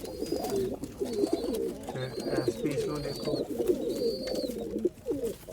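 Rooftop pigeons of a rare Mian Nazir bloodline in Sialkot coo in soft, repeated low calls throughout, close by and steady, with someone talking over them the whole time.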